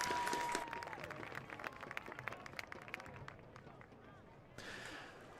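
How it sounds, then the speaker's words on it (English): Crowd at a high school football game cheers and claps, a broad hiss of applause loudest at first, then tapering under a public-address announcer's voice, with a brief swell near the end. "Fans, please join us one more time with a warm round of applause here for our newest Royals."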